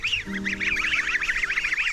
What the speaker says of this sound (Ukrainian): Ось такі гуси.